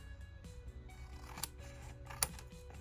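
Scissors cutting paper trimmings for a journal: two quiet, crisp snips spaced apart over a low background hum.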